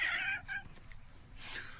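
A chicken clucks and squawks in a few quick, close bursts with short gaps between them, played as a comic sound effect in a radio studio with no talk over it.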